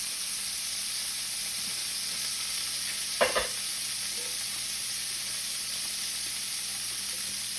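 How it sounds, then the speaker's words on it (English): Beef chunks for bourguignon sear in a hot pan with a continuous quiet hiss and sizzle. A single sharp clatter of metal stands out briefly midway. "until we get all of the meat seared off"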